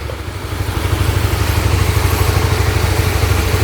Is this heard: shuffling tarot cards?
no